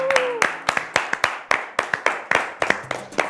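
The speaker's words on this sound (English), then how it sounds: "show everyone at home a round of applause for McKenna" A studio audience and presenters clap for a young spelling champion on a children's TV quiz show, with a rapid run of sharp, uneven hand claps filling the room, alongside a brief sustained tone near the start.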